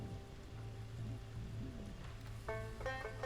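Steady rain patters softly across the whole moment in the survival game Stranded: Alien Dawn, joined near the end by a few bright, chiming game tones.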